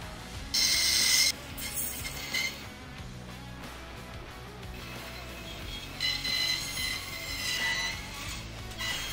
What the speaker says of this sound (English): the saw makes that weird ass squeal sound when you cut through the boards